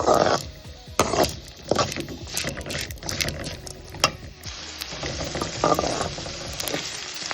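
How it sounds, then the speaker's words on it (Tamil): Onions sautéing in a pan for onion dosa, a close crackling sizzle with irregular clacks and scrapes of a spatula stirring against the pan, no voices heard. "பாருங்கள் வெங்காயம் நல்லா வதங்கிடுச்சு"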